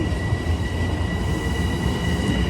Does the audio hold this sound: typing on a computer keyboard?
no